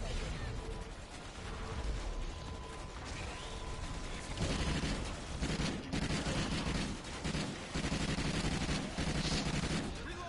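Rapid gunfire and mechanical weapon sounds in Call of Duty Ghosts Extinction, dense and continuous bursts layered over game noise.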